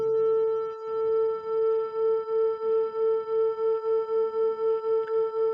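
Two pure tones at slightly different pitches blend into one steady hum. The loudness swells and fades in a regular wobble, about four pulses a second and getting quicker, with no voice over it.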